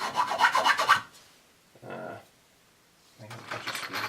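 The file on a Samsonite 14-in-1 multi-tool rasps in a few close strokes: a rapid burst of scraping, a shorter stroke after a pause, then another run of rasping.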